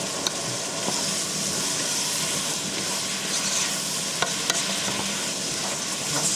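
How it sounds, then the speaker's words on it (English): Shrimp chop suey ingredients are stirred together in a hot pan, with a continuous sizzle and scattered clicks of the utensil against the pan, no speech. "I'm just going to mix everything"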